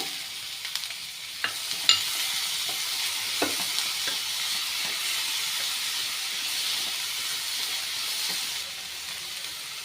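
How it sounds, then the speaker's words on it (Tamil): Onions and tomatoes sautéing in a pan for chana masala, a soft, steady hissing sizzle with occasional sharp clicks and taps of a stirring spoon, fairly quiet and without any talking. "வெங்காயம் சாஃப்டாக வர வரைக்கும் நல்லா வதக்கி விட்டுக்கோங்க"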